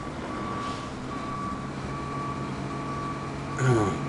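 Steady, evenly spaced reversing beeps from a truck in the Roadcraft video game, repeating over a low engine rumble, with a brief louder mechanical burst near the end.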